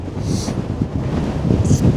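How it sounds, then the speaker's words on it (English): Strong wind on a golf course buffeting the microphone in a steady low roar, gusting louder toward the end, with no voices. "It's so windy."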